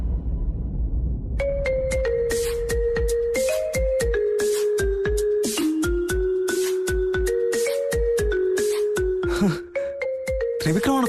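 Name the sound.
phone ringing with an incoming call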